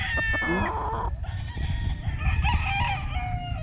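A locally bred Sweater gamefowl rooster clucks and crows close by, with a sharp crow at the start followed by rapid clucking over continuous farmyard noise, no speech.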